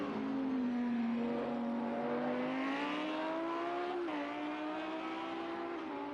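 A race car on a track drives through a turn, its engine droning steadily at mid distance, the pitch sagging and then climbing as it comes out of the corner.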